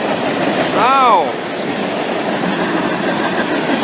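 Freight train with flatbed cars passing on nearby tracks, a steady rolling rumble with a short high whistle-like squeal early on, over outdoor background.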